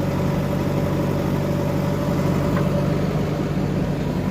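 A JCB machine's engine running at a work site where a tractor is being loaded; a steady, low diesel drone with constant rumble and no change in pitch or loudness.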